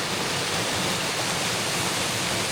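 The Sadasiva Kona waterfall pours in a dense, unbroken roar of falling water, steady and close with no other sounds.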